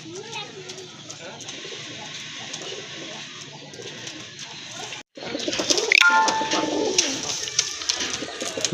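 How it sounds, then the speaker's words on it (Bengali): Huge native Bombay pigeons coo in soft, repeated, throaty calls nearby, with louder, busier bird noise and clatter after a brief break midway. "এটা হচ্ছে বোম্বাই কবুতর, একেবারে কিন্তু দেশি বোম্বাই কবুতর, হিউজ সাইজের কবুতর"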